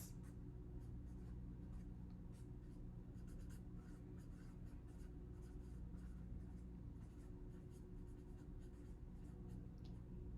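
Hand-written strokes of a pen or marker on a board or paper, steady scratchy scribbling over about ten seconds, close and moderately loud against a low constant hum, with no talk.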